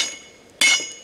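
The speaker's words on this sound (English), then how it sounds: "one of us should be hammering" A single sharp metallic hammer blow at a forge rings out mid-clip, with a bright clinking tone that decays quickly over a faint hum.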